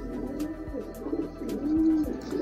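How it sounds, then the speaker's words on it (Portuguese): A crowd of more than a hundred homing pigeons coos steadily in a loft, with soft overlapping throaty calls close by and a few faint chirps from squabs mixed in. "Eu acho que tem uns cento e tantos pombos aqui, viu, gente?"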